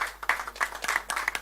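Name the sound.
applause in a fisheries committee session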